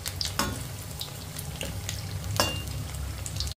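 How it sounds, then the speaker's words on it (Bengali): Egg pakoras frying in oil in a pan, a steady close sizzle with a few brief stirring or turning clatters and no talk. "এইভাবে উল্টিয়ে পাল্টিয়ে আমি ডিমের পকোড়াগুলোকে ভালো করে ভেজে নিয়েছি"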